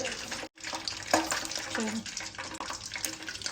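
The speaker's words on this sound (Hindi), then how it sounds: "इसके बाद हम इसमें थोड़ा सा हल्का पानी लगाएंगे" Water runs steadily while being added to a spiced gram flour mixture, a continuous close splashing wash with one brief break.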